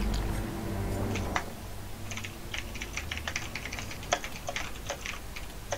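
Rapid typing on a computer keyboard during a Dead by Daylight session, a quick flurry of close, crisp key clicks over a low steady background hum, with no talking.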